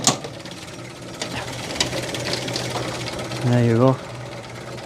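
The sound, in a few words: vintage Rolls-Royce 20/25 engine running, warming up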